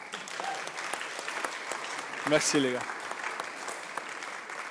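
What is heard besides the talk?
congregation applauding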